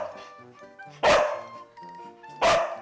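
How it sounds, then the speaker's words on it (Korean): A young dog gives two loud, sharp barks close by on command, set against background music. "짖어 했을 때만 짖어야지."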